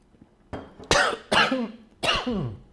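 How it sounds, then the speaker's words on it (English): A streamer coughs hard in three separate fits, each a burst of rough, throaty hacks with some throat clearing, loud and close with short quiet gaps between them. "I'm coughing myself to death on the stream."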